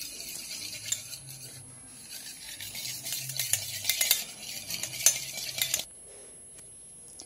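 Oil and fresh yogurt beaten together in a bowl for a vanilla cake batter, a close, steady clatter of a whisk or spoon scraping against the bowl that builds in intensity and then stops abruptly.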